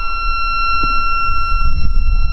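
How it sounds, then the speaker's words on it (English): A yacht's marine diesel engine low oil pressure alarm sounds with the ignition on and the engine stopped, a loud, steady continuous electronic tone over low engine-room rumble. "you can hear that alarm going off"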